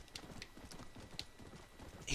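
An undead horse in the video game Red Dead Redemption: Undead Nightmare gallops with a steady, rapid clip-clop of hooves, mixed with faint game ambience and a voice talking over it.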